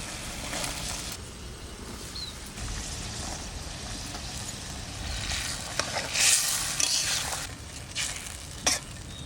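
Hilsa curry simmering in a pan as taro stolons are stirred in, giving a steady soft sizzle and bubbling with occasional scraping and clatter, fairly quiet and continuous with no voices.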